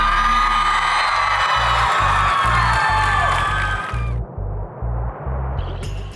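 A loud crowd in the bleachers at a high school drag race whoops and cheers with high yells, backed by a pulsing low rhythmic thump that continues as the cheering fades.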